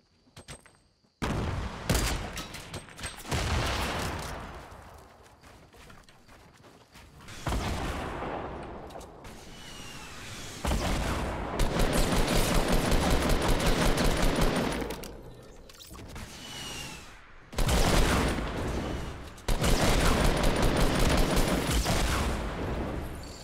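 Rocket launcher blasts and a grenade explosion in Fortnite sound as loud, harsh bursts of booming fire, coming in several separate volleys with short quiet gaps between them.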